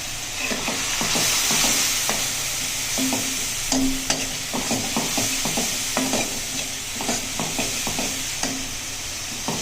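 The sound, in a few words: spices being roasted and stirred for chana dal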